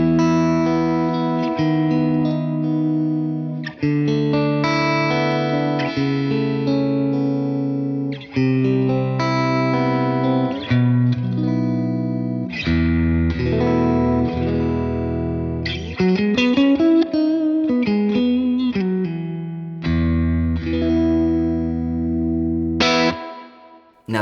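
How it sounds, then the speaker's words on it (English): Electric guitar played through a Tone King Imperial tri-tube preamp, its clean tone washed in a digital convolution spring reverb. Strummed chords and melodic runs sound close and sustained, with no voices over them. "Now this is a convolution reverb. It's a digital recreation of a spring reverb"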